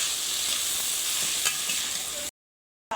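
Chicken keema sizzles steadily in a pan as chili powder goes in, a dense close frying hiss with one brief louder crackle, cutting off abruptly near the end.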